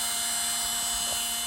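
A small electric hobby motor for a Radio Shack Tub o Towels Hummer runs steadily during brush break-in, giving a continuous high-pitched whine with faint fluctuations, close and alone.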